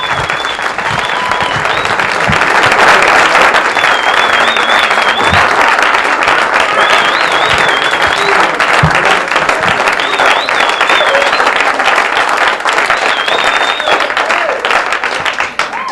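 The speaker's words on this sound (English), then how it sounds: "A nice round of applause for Mr." Audience applause for stand-up comedian Phil Van Tee at a 1986 comedy show: loud, dense, sustained clapping from a full room, with whistles riding over it, holding steady for the whole stretch.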